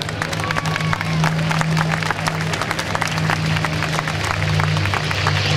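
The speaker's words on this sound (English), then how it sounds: "how about a big round of applause for Bob Carlton?" Sustained applause from a large airshow crowd, dense clapping with scattered cheers, steady and loud throughout over a low droning hum in the background.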